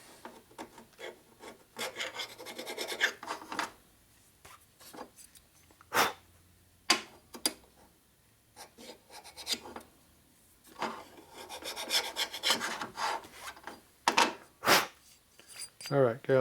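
Metal scraper rasping old gasket material off a 1980 Harley shovelhead motorcycle oil pump, in repeated bursts of harsh scraping strokes separated by pauses, close up.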